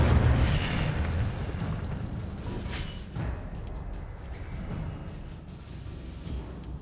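Incendio fire spells cast in Hogwarts Legacy, a rumbling, booming fiery burst with low roaring bursts through the opening and a few repeated whooshes, moderately loud with no talking.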